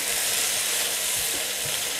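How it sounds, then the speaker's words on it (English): Beef stew ingredients fry together in a pot over medium-low heat, giving a steady, close sizzling hiss with faint stirring scrapes underneath. "And fry it all together."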